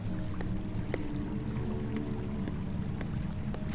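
An underground river splashes in a cave in The Warlock of Firetop Mountain, a steady rushing wash of water with occasional faint drips, moderately loud and alone.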